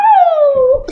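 A single human voice imitates a wolf howl, one sustained tone sliding slowly downward for nearly a second, loud and close, ending in a brief breathy noise.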